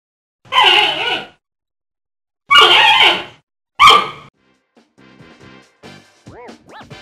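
Three drawn-out bleating calls from a panda with pauses between, followed by softer squeaky whines and chirps near the end.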